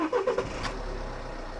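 A 2016 Toyota RAV4 2.0 D-4D diesel, FWD Business Edition, cranks briefly with the key, catches and settles into a low, steady idle nearby.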